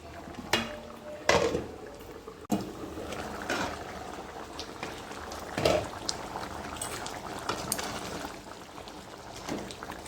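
A pot of goat head curry with turmeric bubbles softly at a low simmer, with occasional clinks of utensils against metal breaking through.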